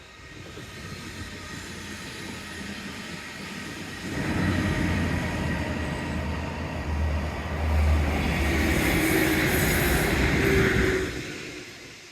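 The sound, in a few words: train passing along the seafront at Teignmouth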